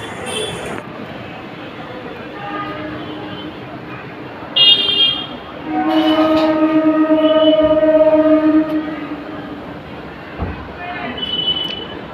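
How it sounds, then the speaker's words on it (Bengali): A train passes close by next to Konnagar station, a steady rumble building with drawn-out horn-like tonal blasts in the middle, while background chatter carries on around it. "ট্রেনের আওয়াজ তোমরা শুনতে পেলে, একদম কোন্নগর স্টেশনের পাশেই"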